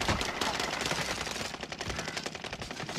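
Rapid automatic gunfire from Call of Duty: Warzone, the Resurgence mode, dense and loud with continuous bursts of shots across the whole stretch.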